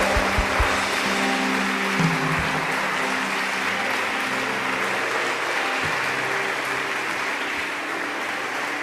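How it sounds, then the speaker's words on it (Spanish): Sustained applause from a congregation at a church service, a broad steady wash of clapping that holds at an even level throughout, with a few low thumps early on. "Denles aplauso a Jesús bien fuerte"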